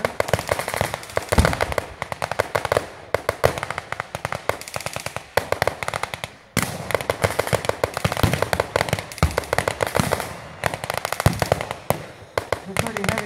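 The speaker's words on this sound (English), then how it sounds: "the light cannon has opened up" A light cannon fires at a World War II battle reenactment in rapid, heavy bursts of sharp cracks and pops, with dense volleys, brief pauses, and a voice talking in between.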